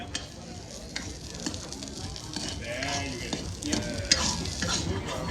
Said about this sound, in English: It's sizzling on the plate of here.